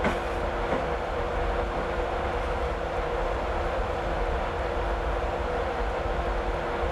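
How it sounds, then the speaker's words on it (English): Class 91 locomotive on the East Coast Main Line from Newcastle to Edinburgh in Train Simulator 2016, a steady rumbling cab drone with faint rail clatter as it gathers speed. "as I start with this locomotive, I gradually increase the power"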